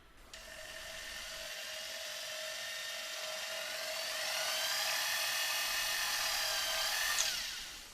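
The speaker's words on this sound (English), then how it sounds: "For this, I'm just going to use a ball burr." A rotary tool with a ball burr countersinks a hole in jewellery metal sheet for a rivet, making a high, steady whine that spins up, holds, then winds down; close, with no talk.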